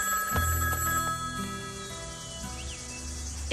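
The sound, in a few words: payphone ringing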